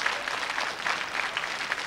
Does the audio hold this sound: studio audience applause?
yes